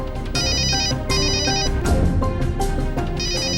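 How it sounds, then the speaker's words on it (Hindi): An incoming call's phone ringtone plays loudly and steadily, a repeating electronic melody with bright chiming tones that keeps going with no voices over it. "फिर से ललिता जी का फोन"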